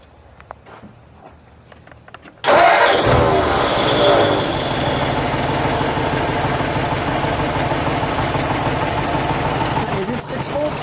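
A 1955 Ford Fairlane Crown Victoria with a 6-volt system cranks and fires, then settles into a loud, steady, smooth idle close by, with quiet sounds before the start.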